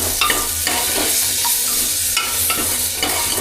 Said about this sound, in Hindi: अब इसके अंदर टमाटर को भी कर लेता हूँ फ्राई।